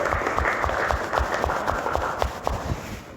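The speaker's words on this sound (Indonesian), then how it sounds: "Tepuk tangan dulu untuk kita semua." Students in an Indonesian classroom clap together during a teacher's performance-test lesson, producing dense, steady clapping with a rhythmic pulse that holds at an even, fairly loud level for the whole span.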